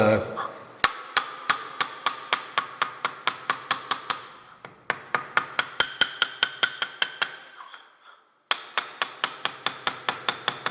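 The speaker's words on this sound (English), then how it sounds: "I'm gonna go get my hammer and whack that down" Rapid, regular hammer strikes whacking tape down ring out in long runs, sharp and close, pausing briefly twice before resuming.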